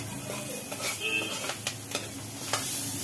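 Banana stem pieces frying in hot oil with continuous sizzling, stirred now and then so that a few crisp scrapes and clicks stand out against the steady hiss.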